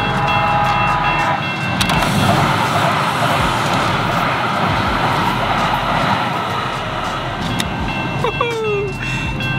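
A metro train on a Los Angeles line rolls past nearby with a steady, loud broadband rumble and rattle throughout, under traffic-like street noise, with a brief squeal near the end.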